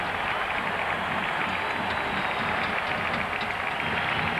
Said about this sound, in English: Jacques Joubert, the BU fans stand and applaud